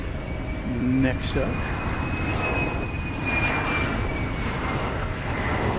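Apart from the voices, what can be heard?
American Airlines Airbus A321 from Los Angeles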